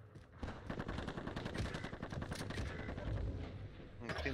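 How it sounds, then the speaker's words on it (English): C58 assault rifle fire in the Warzone video game, rapid automatic bursts running steadily through the whole span, loud and close, with game chatter and voices mixed underneath. "He shoot you with a C58."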